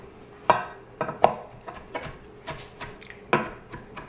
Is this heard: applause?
no